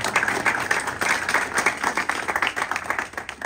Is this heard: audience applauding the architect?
yes